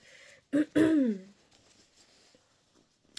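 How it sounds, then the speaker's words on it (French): A woman coughs twice, close and harsh, the second burst longer and rougher with a throaty, wheezy edge, before a quiet room settles back in. "j'arrête pas de tousser"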